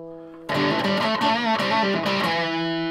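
An electric guitar played through a Washburn SX3 amp stack with distortion set halfway rings out in a thick, buzzing sustained chord after a quieter lead-in, loud and alone with several re-struck accents.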